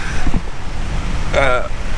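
Strong wind on a North Shore beach in Oahu buffets the microphone with low rumbling gusts and surf noise, while a voice speaks briefly over it.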